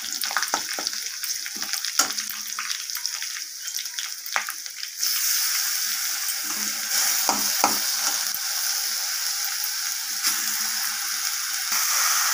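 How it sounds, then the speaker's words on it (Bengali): Grated taro dropped into hot oil with tempered spices, sizzling and frying as it is stirred, with scraping clatter early on, then a steady loud hiss of frying. "কচুটাকে দিয়ে আমি এবার ভালোভাবে মিশিয়ে নেব তেলের সাথে আর ফোড়নগুলোর সাথে"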